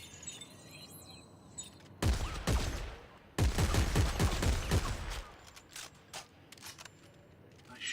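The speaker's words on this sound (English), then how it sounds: "I want to test out the shotgun." Shotgun blasts from Dead Space 3 in a frozen wasteland setting: two heavy booming bursts with rattling, scattering tails a second or so apart, followed by quieter clicks and mechanical clatter.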